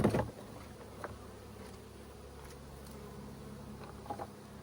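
Honey bees hum steadily around an opened hive after honey pulling on a summer day, a low continuous drone with a few closer passes of individual bees, fairly faint and with no talk.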